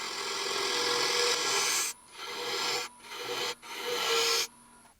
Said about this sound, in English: Now I'm going to take a box scraper and start coming down here and sizing that wall.